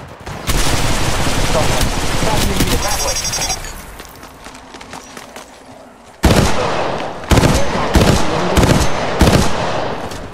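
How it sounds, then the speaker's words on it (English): Apex Legends Mobile gunfire crackles in rapid automatic bursts with sharp single shots in between, loud and near. Game voice lines and effects sound around the shooting. "Opening fire on the enemy."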